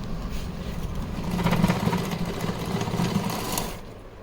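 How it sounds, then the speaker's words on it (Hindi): A sewing machine runs continuously for about four seconds, stitching the back of dress pleats for a festival outfit, a close, steady whirring hum that swells slightly in the middle, with no voices. "इस तरह से मैं पीछे से सिलाई लगा लेती हूँ ताकि अच्छे से हमारी प्लेटें बैठ जाए।"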